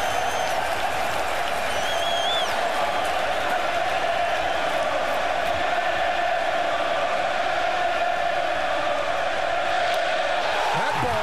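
Dense stadium crowd roar from a standing-room-only baseball game heckling pitcher Johnny Cueto, a steady loud wash of cheering and voices throughout, with brief whistles near the start.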